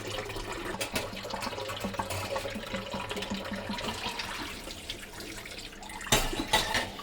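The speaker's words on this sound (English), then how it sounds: "Spencer's been washing the same bowl and spoon for like 20 minutes." Water running while a bowl and spoon are washed with a sponge, a steady close splashing and trickle with soft rubbing and a brief louder clatter near the end.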